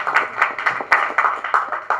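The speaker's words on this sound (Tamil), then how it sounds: "தயவு செஞ்சு நீங்களே ஒரு தடவை கைத்தட்டிடுங்க" Clapping at a press event for the film Visaranai, heard as a quick, even run of close, sharp claps, about four a second, with no voices.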